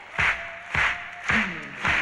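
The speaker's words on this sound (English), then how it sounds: "Everybody clap your hands." Audience hands clapping along in time at a concert, four loud sharp claps spaced about half a second apart in a steady beat.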